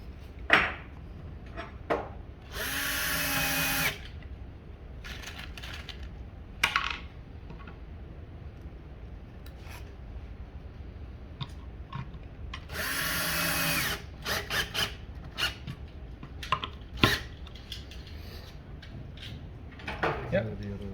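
A power drill drives screws while trainers are built, giving two loud whirring bursts of about a second each, far apart, between scattered clinks and knocks, with people talking quietly in the background.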